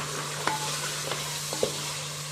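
Browned, ground onion paste goes into mutton and yogurt frying for badami kurma, giving a faint, steady low sizzle with a few soft scrapes and clacks from stirring at spaced intervals under a constant background hum.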